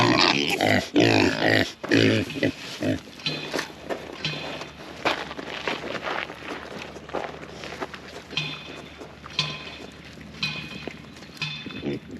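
Idaho Pasture Pigs grunt and snuffle close by at feeding time outdoors on a farm, with irregular busy grunts mixed with shuffling, trampling hooves on the ground.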